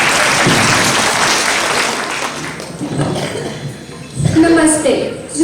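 Applause at a Himachal talent show, a broad wash of audience clapping that gradually tapers off, with voices talking as it fades out.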